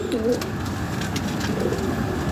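A pair of golden pigeons coo softly and steadily, low throaty calls running through a continuous background hum.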